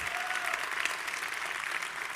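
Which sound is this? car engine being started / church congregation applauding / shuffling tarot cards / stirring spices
church congregation applauding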